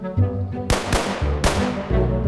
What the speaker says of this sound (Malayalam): ഇനി ഈ കോട്ടില് 2 വെടി.